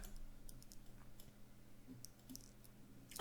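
A computer mouse clicks a few times while editing in Movavi Video Editor. The clicks are faint and scattered over quiet room hum, and no one speaks.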